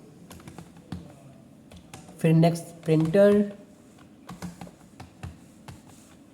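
Keys clatter on a computer keyboard while someone enters list items into an Excel spreadsheet, a run of light close taps in short bursts, broken up by someone speaking.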